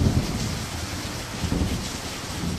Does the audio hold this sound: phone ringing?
no